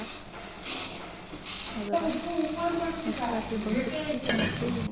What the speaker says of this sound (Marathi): ते रताळ्याचं आपले जे आपण मॅश केले होते ते या दुधामध्ये आपल्याला टाकायचे आहेत बघा मस्त असं फिरून घ्यायचं